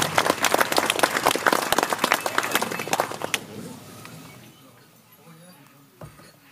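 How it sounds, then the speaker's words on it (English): A crowd applauds to welcome Saskatchewan Premier Scott Moe to the podium at a child-welfare agreement announcement with Cowessess First Nation. The clapping is dense and loud for about three seconds, then fades to a low murmur. "let's bring them to the podium with a big round of applause"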